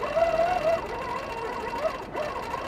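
A Handi Quilter longarm quilting machine with TruStitch regulation runs steadily, its stitching hum rising and falling in pitch as the quilting speed changes, close and clear with no talk.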